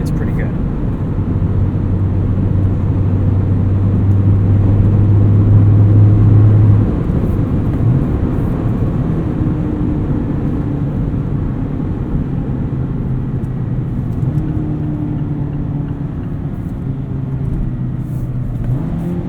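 Steady, loud road and engine roar fills the cabin of a 2019 Mazda MX-5 Miata GT-S soft top while driving, a constant wide drone with low engine tones shifting slightly over about twenty seconds.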